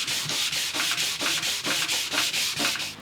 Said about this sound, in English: I've finished sanding this back.